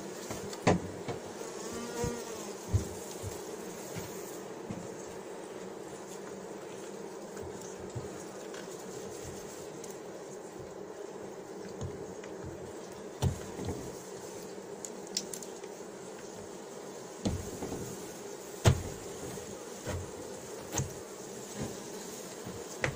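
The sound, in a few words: honeybees buzzing during a spring hive inspection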